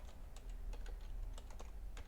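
Quiet, rapid typing on a computer keyboard, with a run of soft, irregular key clicks close by and no speech.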